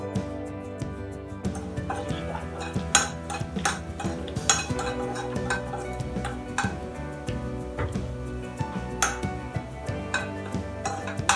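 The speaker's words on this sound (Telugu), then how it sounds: "ఆ పోపు ఇలాగా కొంచెం ఫ్రై అవుతూ ఉంటుందండి" Tempering spices fry in a pan for Telugu tomato dal, giving sharp, irregular crackles and pops over a steady hiss, with occasional metallic clinks of a utensil.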